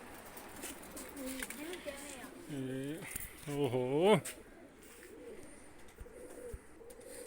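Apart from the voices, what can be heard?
pigeons cooing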